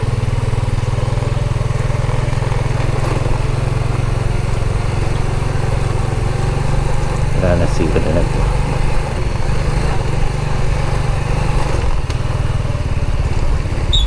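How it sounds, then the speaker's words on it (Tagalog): A motorcycle engine drones steadily with a low, throbbing rumble while riding, close and loud, as someone speaks briefly over it. "Itong isang motor na lang ginamit natin"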